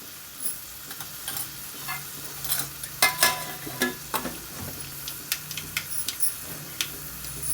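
Peanuts sizzle in hot oil with cumin and urad dal in a pan, a steady close crackle broken by louder scraping strokes of stirring and sharp ticks through the middle, with no talking.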